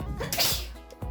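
A single short sneeze, close and fairly quiet, from a child indoors, with a brief sharp burst and nothing else around it.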